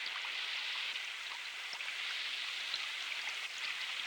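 Steady rain pours down in a rural outdoor scene, a dense, even hiss of falling drops that stays loud and unbroken throughout, with no voices over it.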